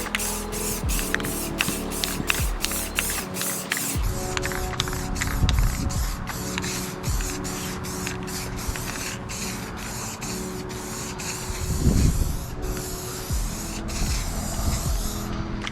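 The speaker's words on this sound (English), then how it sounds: "Now we can spray it." Repeated hissing bursts of an aerosol spray can painting a skateboard deck, short sprays at first then longer continuous blasts, close by, with faint rubbing and handling noises.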